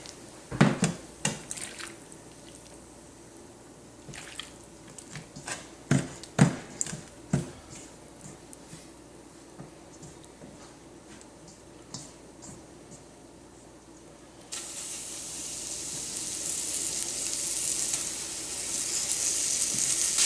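Venison stew meat sizzles in a pan, a soft steady frying hiss with scattered sharp pops and clatter early on, the sizzle growing brighter and louder toward the end, with no talk.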